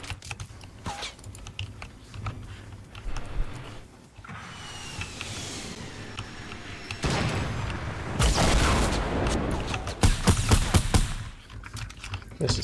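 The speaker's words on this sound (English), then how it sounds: "Shooting at me." Enemy gunfire aimed at the player in an online shooter match, mixed with rapid keyboard typing, scattered shots and bursts that swell into heavier firing midway, with occasional voices in the background.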